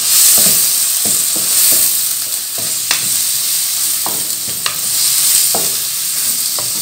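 Tomatoes fry in a pan for beans keema, a bright continuous sizzle with irregular clinks and scrapes of a spoon stirring, close and fairly loud.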